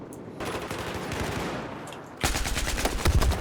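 Sustained automatic gunfire in Battlefield 4, a steady rattling burst that gives way to louder, sharper rapid shots close by, with no talking.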